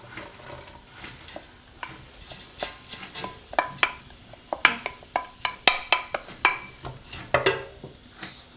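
Chopped vegetables are tipped into onions frying in a pot for a Luxembourgish mussel dish, followed by steady sizzling and a run of sharp spoon-against-pot scraping and clinking strokes.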